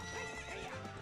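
A horse in the Ocarina of Time video game gives a short, loud, wavering neigh that fills the moment by itself.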